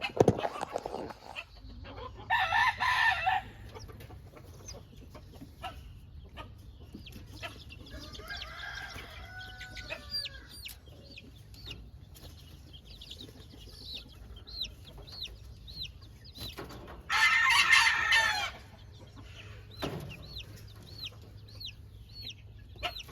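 Young chicks are carried from a hot brooder to a cold one on a farm. Scattered peeping chirps come through, with a couple of loud rooster crows and some dog barks nearby.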